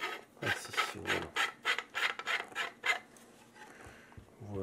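Central stand of an Andonstar AD409 Pro digital microscope being screwed into place, a close, rhythmic series of rasping, rubbing threads turning in short repeated strokes, fairly loud and alone.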